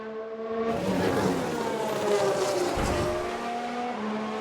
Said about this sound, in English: Sounds like a few cars have crashed.